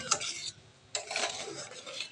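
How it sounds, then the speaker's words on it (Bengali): Amla (Indian gooseberries) go into a pot of simmering jaggery syrup, heard as two short bursts of scraping, stirring and soft splashing, close but fairly quiet, with a brief lull between them. "এবার দেখো আমি আমলকিগুলো দিয়ে দিচ্ছি, একটু আস্তে আস্তে ফুটুক"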